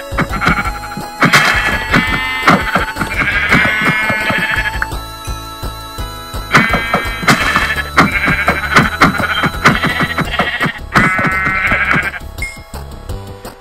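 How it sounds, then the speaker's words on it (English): Blocky Minecraft sheep bleat repeatedly as they are punched for wool, several nasal bursts in a row, loud and close, with game sounds in between. "So I'll start off by punching sheep to get wool."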